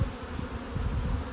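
A dense, steady buzz of honey bees swarming close around an open hive as a brood frame is pulled, continuous and fairly loud with no voices.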